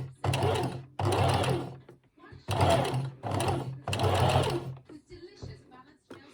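A sewing machine stitches slowly in several short bursts separated by brief pauses, close and clear, with a quiet voice in the gaps.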